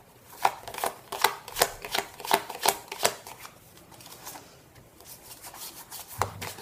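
Tarot cards shuffled by hand in a quick run of crisp riffling bursts, close and clear, then softer rubbing of the deck.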